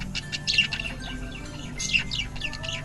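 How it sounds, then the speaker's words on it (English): Pet lovebirds chirping indoors, a few bright, short tweets in two quick bursts over a quiet background. "Next, my pet lovebirds."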